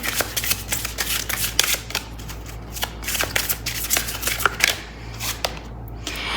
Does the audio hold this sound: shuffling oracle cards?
yes